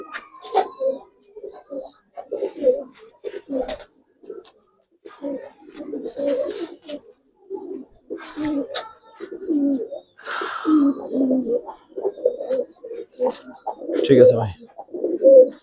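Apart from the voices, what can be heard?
Giribaz coloring pigeons cooing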